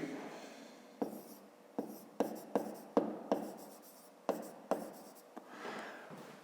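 A pen writes by hand on paper during a fifth-grade math lesson, with a close, soft, steady scratching broken by sharp taps and strokes at irregular intervals.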